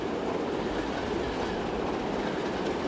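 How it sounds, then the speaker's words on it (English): A freight train running on rails in Transport Fever 2, a continuous rolling rumble with faint clickety-clack wheel noise, steady and moderately loud throughout, with no voices. "This is a freight train."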